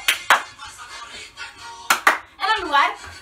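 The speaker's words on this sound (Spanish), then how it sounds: "2 aplausos" Claps in a school folk dance routine to La Mazamorra ring out as sharp hand claps in pairs, two near the start and two more a moment later, with a person talking between and after them.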